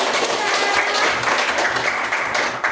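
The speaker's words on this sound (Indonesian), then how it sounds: "Beri tepuk tangan." Students in a classroom give a short round of applause, a dense patter of clapping that stays steady before tapering off at the end.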